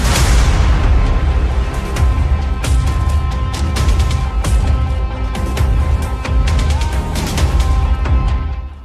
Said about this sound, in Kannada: ಹೆಲಿಕಾಪ್ಟರ್ ಮೂಲಕ ಬಾಂಬ್ ಹಾಕಿದ್ರು